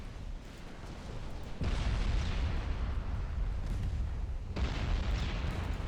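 Heavy explosive booms from a naval battle in Ultimate Admiral Dreadnoughts, a shell hit erupting into a fireball, with two big rumbling bursts that swell and roll on loudly with no talk.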